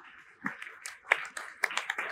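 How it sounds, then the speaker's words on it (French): A short burst of scattered hand claps from a small conference audience, uneven and fairly close, fading in and out over about two seconds. "On vous applaudit, merci beaucoup."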